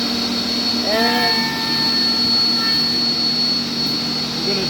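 An IMA Novimat edgebander with a buffer wheel runs steadily, a continuous mechanical whine and hum with a brief rising tonal sweep as a workpiece is fed in, and a voice speaks over it.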